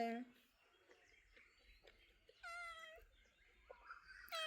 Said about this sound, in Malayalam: അപ്പുറത്തെ വീട്ടിലത്തെ പൂച്ചക്കുട്ടിയാണ്